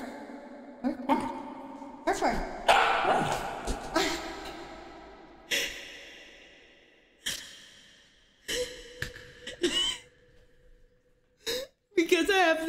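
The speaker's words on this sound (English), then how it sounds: "He's trying to bark" A puppy strains to bark with short huffs and hiccup-like yelps while it slides on a slick floor fitted with flat chair-gripper pads. A person talks over the bursts.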